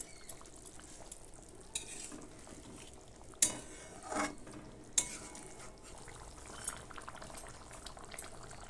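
Chicken and potato curry simmers covered in a pot with a faint, steady bubbling, broken by a few soft clinks and knocks of the pot or lid.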